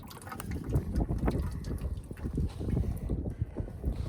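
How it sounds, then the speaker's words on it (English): Fluid drains and leaks from a machine in a soft, close, uneven trickle and splatter, short and unbroken. "Ah, we're making a big leak. That's what I wanted to see. Draining fluid. Leaking fluid."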